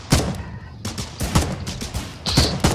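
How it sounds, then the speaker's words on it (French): Gunfire in the Foxhole war strategy video game: repeated loud, close shots in an irregular rapid sequence, about a dozen sharp cracks with brief gaps between them. "Je prends des balles dans le dos."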